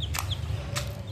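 Chickens peck at their feed, giving a couple of soft, brief clucks over a low rumbling background.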